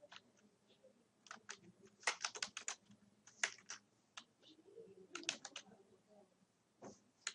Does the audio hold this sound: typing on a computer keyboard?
yes